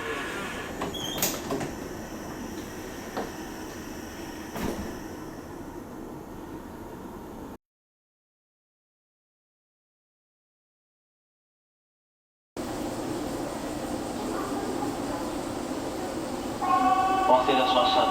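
A Kintetsu limited express train sits at a station as its doors slide shut, with platform noise, clanks and a door chime, a silent gap midway, and announcements heard throughout.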